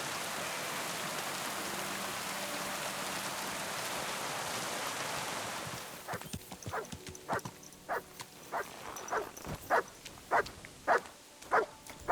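In Kingdom Come Deliverance 2, steady rain hisses for several seconds, then a dog barks in a run of about eight regular, fairly close barks.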